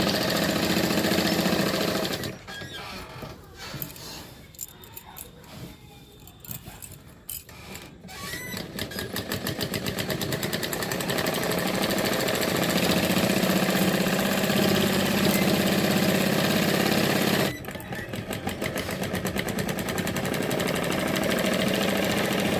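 An electric sewing machine stitching a quilt made from old discarded cloth runs in long continuous bursts, a steady close mechanical whirr with short gaps, stopping briefly a couple of times.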